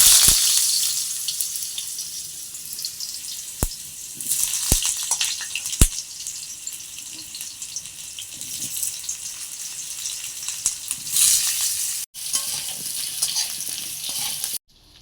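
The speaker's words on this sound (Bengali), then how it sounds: "তেলটা তেতে গেছে, এখন আলুগুলো ভেজে নেব" Potatoes frying in hot oil in a home kitchen crackle with a steady, loud sizzle throughout, broken by a few sharp clicks and clatters nearby.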